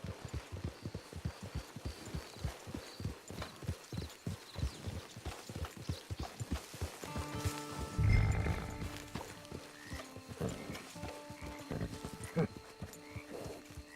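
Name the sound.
horse hooves and whinny in video game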